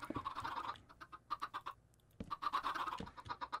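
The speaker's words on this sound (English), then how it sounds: "I actually didn't expect chickens at all." Minecraft chickens cluck in quick repeated bursts, several clustered groups of short clucks separated by a brief quiet gap, close and clear with no talking.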